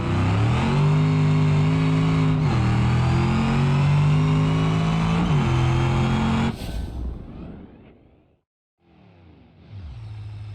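A pickup truck engine in the BeamNG.drive racing game revs loud and steady with rising and falling pitch for several seconds, then cuts back sharply, drops almost to silence and picks up again.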